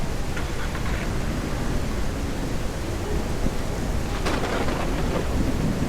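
Steady heavy rain hisses throughout in the video game Ranch Simulator, with low rumbling thunder rolling underneath and a sharper crackle near the end.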